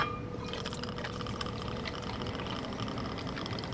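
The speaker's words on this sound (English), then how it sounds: "On top of that, you're going to put 1 1/2 ounces of your coconut rum." Coconut rum, one and a half ounces, poured into a mixing tin half full of ice, a steady close liquid trickle with light clinking running continuously for a few seconds.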